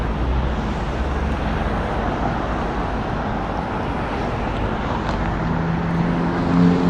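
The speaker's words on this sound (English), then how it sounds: "it's an Urus" A Lamborghini Urus SUV drives past on a Las Vegas street, a steady broadband road roar of engine and tyres that swells slightly toward the end, with no talking.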